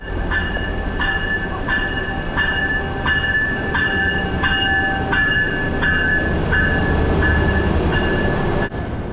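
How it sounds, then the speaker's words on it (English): A passenger train arrives, rolling steadily past close by, wheels clacking in a regular rhythm over rail joints under a constant loud rumble. "Train has arrived."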